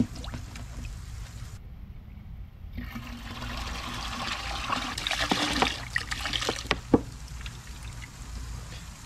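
Coolant pours from a jug into a Jeep's cooling system, a steady close-up glugging and trickling stream that swells and gurgles for several seconds.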